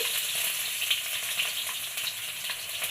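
Fenugreek seeds and small shallots sizzle in two tablespoons of hot oil in a kadai, a close, steady crackling hiss with small pops throughout.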